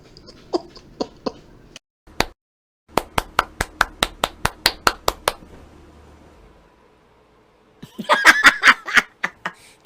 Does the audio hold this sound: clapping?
yes